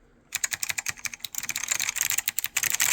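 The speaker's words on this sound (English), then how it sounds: "These are actually one of my fastest typing switches." Fast, close typing on a Focus FK-2001 keyboard with white Alps clone switches makes a dense, crisp clatter of rapid keystrokes that runs continuously with no talking.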